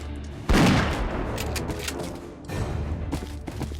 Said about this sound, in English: Randomly shooting at the warjack for no reason